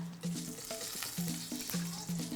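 Onions sizzle in hot cooking oil in a pan, with a spoon scraping and stirring in repeated rhythmic strokes over a steady frying hiss, close and moderately loud.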